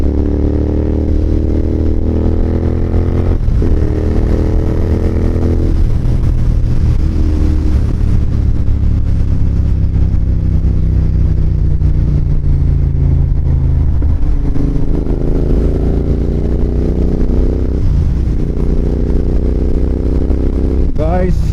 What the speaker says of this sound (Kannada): ಇವಾಗ ಮಜಾ ಬರ್ತೈತೆ ಗಾಡಿ ಓಡ್ಸಾಕ